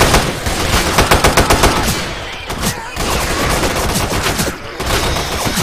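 Rapid automatic gunfire from the Left 4 Dead video game with mods: dense, loud bursts of machine-gun shots rattle almost continuously with brief gaps, and voices shout faintly underneath.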